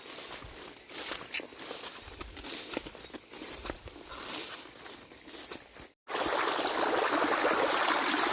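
Irrigation water trickling and flowing along furrows in a dry crop field at night, a soft continuous burble with scattered footsteps and rustling nearby, growing into a louder steady wash near the end.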